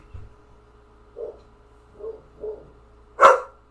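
Dogs barking indoors, several short separate woofs spaced out over a few seconds, with the final bark louder and sharper, fairly near.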